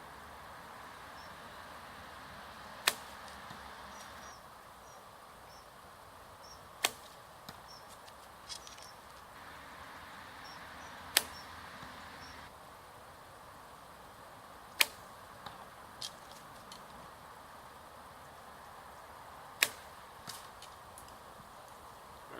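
Arrows shot from a hybrid bow with a Dacron string strike and knock together in the target, about seven sharp isolated clacks spread over twenty seconds above quiet outdoor ambience with faint birds.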